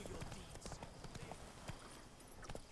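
Roach, a horse in The Witcher video game, trots with steady clip-clop hoofbeats at moderate distance, faint under a layer of talk and game noise.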